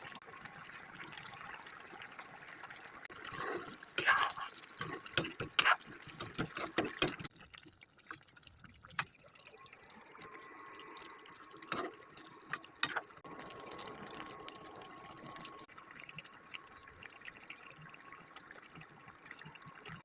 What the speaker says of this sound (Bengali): শাক আলু আমি ভেজে নিয়েছি, এখন জল দিয়ে দেবো।